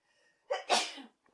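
A single sharp sneeze, close and fairly loud, preceded by a quick intake of breath, then silence.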